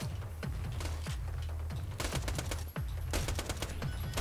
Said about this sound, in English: Just keep shooting with something with a fast rate of fire.